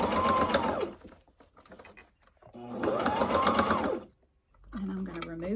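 A domestic sewing machine stitching a quilted, padded tablet zipper bag, running in two loud bursts separated by pauses, then a short third run; a voice talks during the gaps.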